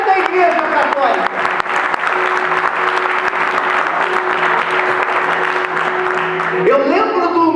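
A church congregation at a Catholic gathering breaks into loud, sustained applause filling the hall, with a voice and some cheering mixed in toward the end.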